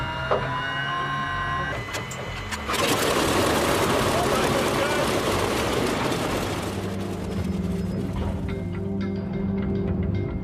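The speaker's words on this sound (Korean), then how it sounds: "go ahead and engage the starter" The aircraft engine on the deck of the I-400 submarine is started with the starter engaged: mechanical whirring and clatter build, then a loud roaring surge sets in and settles into a steady rumbling run, with faint voices underneath.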